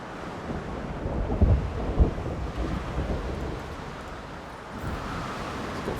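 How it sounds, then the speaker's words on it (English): A thunderstorm rolls through a dinosaur park in the video game Jurassic World Evolution, with deep rumbling thunder, rushing wind and steady rain noise holding a loud, continuous wash throughout. "Seems like the worst of the storm is over, though."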